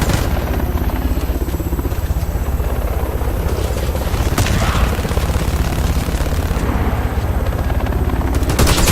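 A helicopter's rotor thumps loud and close in a military shooter video game. The steady beating runs throughout, and short percussive bursts like gunfire break through now and then.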